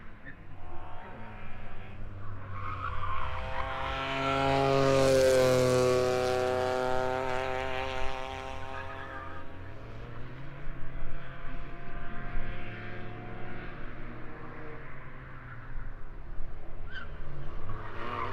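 A rallycross race car that previously won the Icelandic championship drives past, its engine rising to a loud, harmonic-rich peak mid-pass and then settling into a steady roar with brief tire skids. The car is heard alone, with no talk over it.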